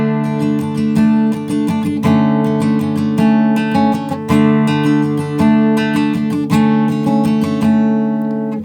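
A guitar in standard tuning plays the intro to a song, with gently strummed chords and picked notes ringing out in a steady, unhurried rhythm and no voice over them.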